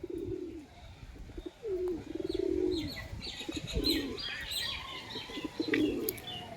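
White pigeons coo in several low, rolling bursts, one after another, with faint chirps and a little wing flutter in the background.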